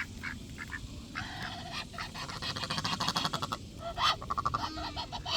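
Mallard ducks quack repeatedly while being fed, with bursts of nasal calls overlapping in a busy, irregular chorus, moderately close.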